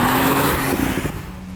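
A Porsche 911 Turbo S with 641 horsepower accelerating hard, its engine note loud and rising, then easing off as it moves away.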